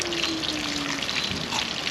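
Red snapper fries in hot oil, giving a steady, dense sizzle and crackle that runs close and unbroken, with a faint tonal hum beneath and no talking.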